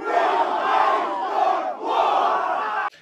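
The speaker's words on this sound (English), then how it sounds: "His fans cheering him" Loud, roaring crowd of Khabib Nurmagomedov's fans cheering him at a pre-fight press conference, a continuous wall of shouting voices that dips briefly and surges again before cutting off abruptly.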